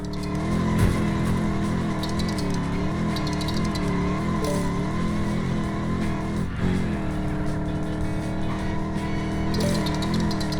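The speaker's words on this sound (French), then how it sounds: "Joli dérapage. Bien joué. Je ne connais personne qui dérape aussi bien." Car drifting in the Lego 2K Drive video game, a loud continuous engine whine with wavering pitch and tire noise through the sweeping slide, steady and close, with no speech.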